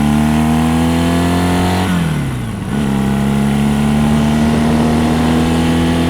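A motorcycle engine revs steadily in second gear on a ride toward Griffith Park, loud and close, dipping briefly before climbing again with a rising drone.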